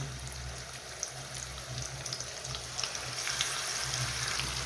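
Pieces of boal (wallago catfish) fry in hot oil in a pan, giving a steady, even sizzle at close range with occasional light crackles and no talk.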